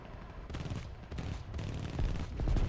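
Jaguar GR.1 jet aircraft cannons fire at a medium tank in a combat flight video game, several loud rapid bursts of gunfire with brief gaps between them, growing heavier toward the end.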